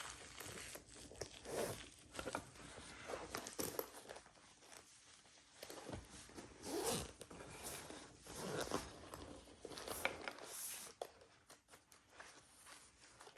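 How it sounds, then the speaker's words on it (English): Zipper pulled around a smooth DJI Mavic Mini 2 drone carrying case during unboxing, a series of close, scratchy zipping strokes with short pauses between them, no talking. "Here's the zipper."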